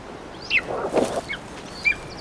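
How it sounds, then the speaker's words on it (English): An eaglet gives short, shrill calls at its parents in the nest, a few sharp squeals spaced apart with a louder harsh call in the middle, close and clear against a quiet outdoor background. "With every passing day, the eaglet gets more noisy and aggressive towards its parents"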